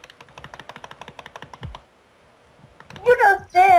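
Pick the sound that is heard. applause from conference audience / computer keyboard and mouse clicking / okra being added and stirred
computer keyboard and mouse clicking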